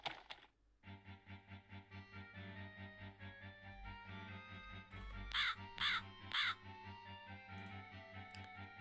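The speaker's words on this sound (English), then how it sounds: "That's a nice crow." Crow caws from a PS2 horror game, three loud harsh calls in quick succession about midway, over a steady droning game soundtrack with a low rumbling bed.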